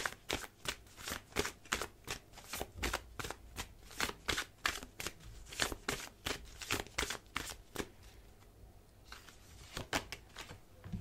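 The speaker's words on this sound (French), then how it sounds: "je sais plus si j'ai déjà battu les cartes, comme je les bats quand même un long moment" Tarot cards shuffled for a long stretch, a steady run of crisp riffling bursts repeating close up, moderately loud, with no voices.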